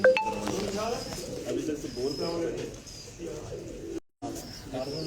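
Pigeons coo softly and repeatedly nearby, overlapping with background voices and faint chirps, with a brief dropout near the end.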